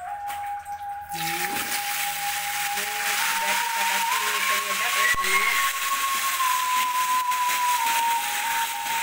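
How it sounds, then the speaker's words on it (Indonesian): Loud, steady sizzling of chilies frying in hot oil left over from frying taro fills the clip, with a high whine running through it and a voice speaking briefly under it. "Lanjut kita goreng cabenya lagi ya sana"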